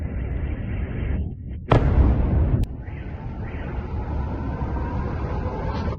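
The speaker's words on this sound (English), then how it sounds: "Guys, we're being bombed." Strikes in a bombing raid boom over a dense, constant roar, with a heavy explosive blast cutting through and lingering for about a second, followed by a sharp crack and ongoing rumble.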